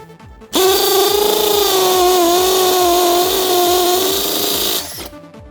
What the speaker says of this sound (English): Here I'm doing a demonstration of the hammer drill.